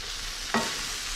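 Vegetables browning lightly in a pan at a trout catch-and-cook, a steady soft sizzle with one brief stirring scrape partway through, close and moderate, no talk.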